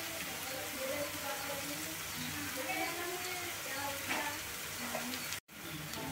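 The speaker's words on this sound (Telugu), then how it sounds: "మొత్తం మీడియం ఫ్లేమ్లో పెట్టుకొని వేపుకుందాం" Okra curry ingredients fry in a pan over a medium flame in a village kitchen, giving a steady close sizzle with light stirring and a brief cut near the end.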